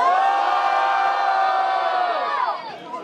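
A crowd at a rap battle in Londrina cheers and whoops loudly, a sustained roar of voices that fades near the end.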